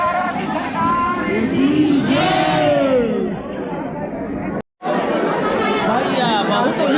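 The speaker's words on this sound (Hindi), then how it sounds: "भैया बहुत भीड़ हो रही है।" A large crowd of pilgrims chatters at Nidhivan in Vrindavan, a dense, steady babble of many voices close around, with one brief cut of silence midway.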